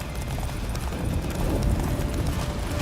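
Roach the horse gallops hard through a blizzard toward a fortress in The Witcher Wild Hunt, with steady hoofbeats pounding under loud wind and game noise.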